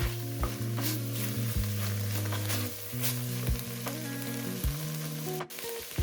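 Onions and garlic sizzling in a pan with fat for lasagna soup, a steady close frying hiss with occasional scrapes and clinks of stirring, quiet and alone.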